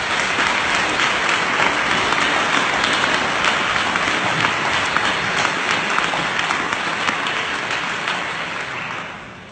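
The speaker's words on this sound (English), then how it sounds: "Give these two another big round of applause." Loud, dense applause from a large audience at a speech, steady sustained clapping that tapers slightly toward the end, with no talk over it.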